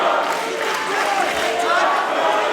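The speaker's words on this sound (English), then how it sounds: "Crowd chanting for Liam." A large audience at a CFFC NextGen MMA fight chants for fighter Liam O'Toole as a steady, dense roar of voices that fills the whole stretch without a break.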